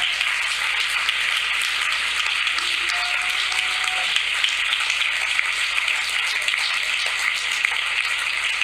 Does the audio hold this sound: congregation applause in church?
yes